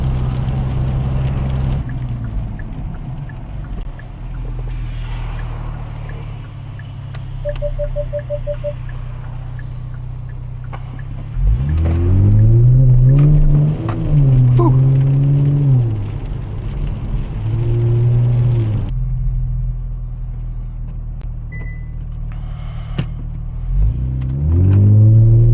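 A car driving on a slushy, snowy road, heard from inside as a steady low engine rumble and tyre wash, swelling with several rising revs as it accelerates, loud and continuous.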